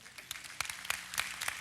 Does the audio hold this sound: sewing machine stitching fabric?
no